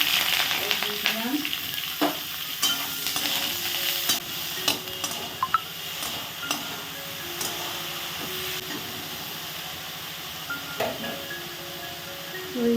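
Chopped garlic and washed, cut eggplant hit hot oil in a pan, giving a lively sizzle and crackle with scattered clinks and scrapes of stirring, close and fairly loud, no talking.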